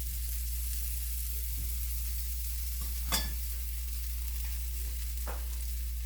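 Oil sizzling in a pan under a gram flour pancake, a soft continuous fizz over a low steady hum, with a couple of faint clinks of a utensil.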